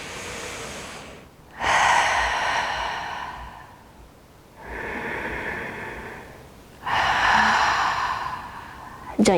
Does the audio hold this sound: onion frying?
no